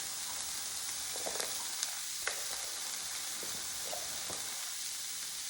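Shrimp fry in a pan for a cauliflower rice stir fry, giving a constant bright sizzle with a few sharp pops and crackles scattered through, close and unbroken, with no talking.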